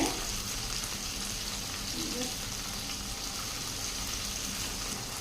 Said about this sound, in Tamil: நம்ம தண்ணியில் அலசி வச்சுருக்கிறதுனால நல்லா சடன்னு ஒரு சவுண்டு வருதுங்க